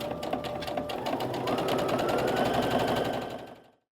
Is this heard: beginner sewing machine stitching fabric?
yes